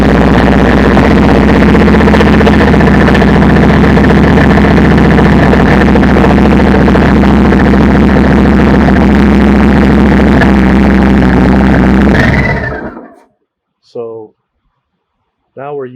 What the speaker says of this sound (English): We can crank the motorcycle.